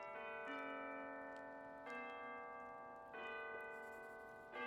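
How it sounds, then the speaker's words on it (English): Soft distant bells from the video game Tiny Bookshop ring in three or four slow, spaced strikes, each tone sustaining and fading gently, quiet and alone. "The soft sounds of the distant bells"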